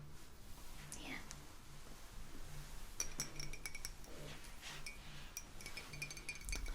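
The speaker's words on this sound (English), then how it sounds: "I brought you a glass of water." A glass of water set down during a quiet, whispered personal-attention ASMR scene, giving several light, sharp clinks scattered over a soft hiss and faint rustling, with close whispering throughout.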